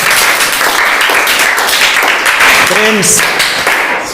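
Students in a coaching class clap loudly after a correct general knowledge quiz answer, a dense burst of close hand claps with a brief voice calling out partway through.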